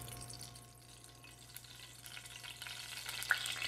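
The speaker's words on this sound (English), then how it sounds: "I'm placing this into an already hot pan. So sizzle, baby." About a quarter cup of olive oil sizzles in an already hot pan, a faint, quiet fizz that grows a little louder and busier toward the end.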